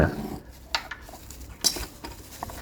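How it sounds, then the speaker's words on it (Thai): Metal camping cookware pots from an Out of Door DS-308 set being handled, giving a few sharp clinks and clanks between quieter rattles, close up with no talking. "ชุดเครื่องครัวคุกกิ้งเซต Out of Door รุ่น DS 3 0 8นะครับ"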